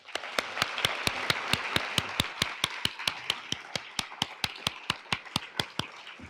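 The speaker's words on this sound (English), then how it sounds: "Join me in giving a round of applause for Nikole Hannah-Jones" Applause at an event for Nikole Hannah-Jones, heard as a single pair of hands clapping close by in a fast, even rhythm of about two dozen crisp claps over a soft murmur of a wider crowd.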